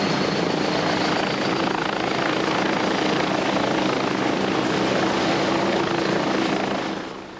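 Westland Scout helicopter, an old manually flown design, in flight: a loud, steady rotor and turbine drone fills the whole stretch without pause, easing off only slightly at the very end, with no voices.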